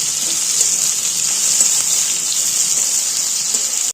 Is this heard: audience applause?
no